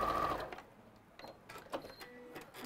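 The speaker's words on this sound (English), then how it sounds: "So I'm just going to sew along that one, the straight edge of the block." A domestic sewing machine stitches a straight seam along a fabric block edge for a giraffe cushion, a short whirring run up close that stops, followed by light clicks and handling noises.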